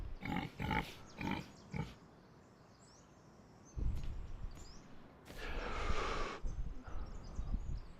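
A pig in the Rust survival game grunts and snorts in a few short bursts at the start, then after a quiet stretch more rustling grunts follow, fairly faint against outdoor ambience.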